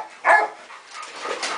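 A single dog on a farm gives a short bark near the start, followed by quieter whimpering and yipping sounds, fairly close and with no talk over it.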